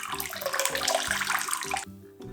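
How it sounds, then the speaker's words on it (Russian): Water pours and splashes steadily into a sink as a pot of boiled potatoes is drained, then the flow cuts off abruptly near the end. "С картошки сливаем воду."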